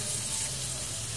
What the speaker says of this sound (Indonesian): Ini udangnya kita masukkan ke teflon.